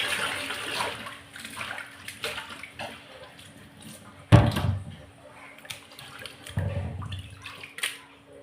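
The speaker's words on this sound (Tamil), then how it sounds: "மீன் அந்த மாதிரி கழுவிக்கலாம்" Water sloshes and splashes steadily as half a kilo of fish is rinsed and handled in a basin, with a couple of louder splashes partway through.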